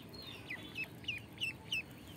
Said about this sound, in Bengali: এই যে হাঁসকে মুড়ি দেওয়া হয়েছে,